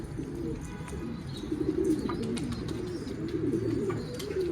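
A Güllü Bango pigeon, one with a slightly swollen foot, coos in low, repeated rolling calls that run steadily throughout, close by, with a constant murmur of background noise.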